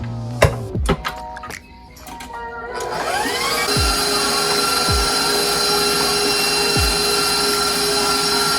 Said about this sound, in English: I like to use the whisk attachment opposed to the paddle.